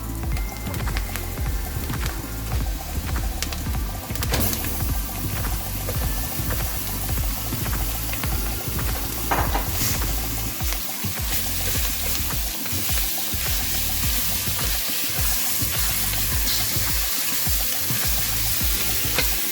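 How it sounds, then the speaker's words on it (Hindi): Minced meat frying with whole spices in a hot pan, a dense, continuous sizzle with scraping stir strokes throughout, loud and close, no talking. "बस ज़रा सा मिक्स किया और अब मैं इसमें कीमा शामिल कर रही हूँ।"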